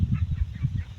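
Young white leghorn chickens in a rural Philippine yard make brief low honking clucks and murmurs, a close, soft cluster of calls over about a second.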